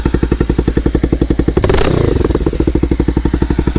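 Bajaj Pulsar 180 cafe racer motorcycle with a loud M4 exhaust: close, heavy, rapid thumping of the engine with a brief throaty rev burst in the middle, then back to a steady pulse, with no talking.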